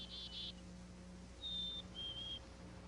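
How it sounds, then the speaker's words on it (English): A hoary marmot gives three short, thin whistles that ring out separately against a quiet alpine background with a low hum, faint and distant. "you run into a hoary marmot, or whistling marmot"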